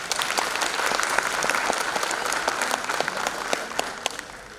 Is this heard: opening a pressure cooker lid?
no